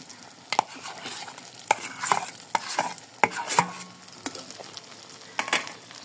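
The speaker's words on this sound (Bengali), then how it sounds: "এই যে আলুগুলো সিদ্ধ করে রেখেছিলাম, ওই আলুগুলো এখন দিয়ে দিব" Boiled potatoes with spices are stirred and fried in a pan for a pangas fish curry, giving a close sizzle broken by repeated scraping strokes and soft clatter at an uneven rhythm.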